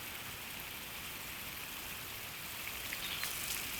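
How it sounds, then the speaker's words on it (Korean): Steady, soft hiss of an early summer rain shower falling continuously, fairly faint and unbroken, with no voices. "초여름의 시원한 소나기 소리에"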